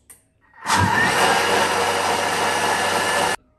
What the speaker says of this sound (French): Donc je mixe le tout pendant 30 secondes, vitesse 8.